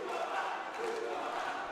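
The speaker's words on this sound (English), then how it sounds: "crowd starting to really get behind." A dense, roaring crowd at an Almighty Fighting Championship MMA bout fills the air with sustained cheering and shouts, loud and steady throughout without a break.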